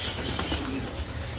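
Racing pigeons being conditioned for a race flap their wings close by in a short, busy burst, with soft cooing mixed into the steady fluttering.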